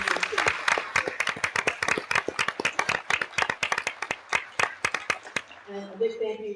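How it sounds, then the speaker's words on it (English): An audience at a business energy event claps for board members, with clear, fairly close individual hand claps in a brisk scattered rhythm that stop abruptly, followed by faint voices. "Give them a round of applause because they are amazing too."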